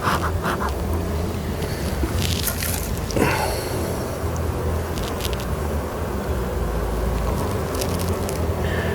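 A dense, steady buzzing of many agitated honey bees at a hive fills the air, close by and continuous, with a low rumble underneath and occasional light rustles.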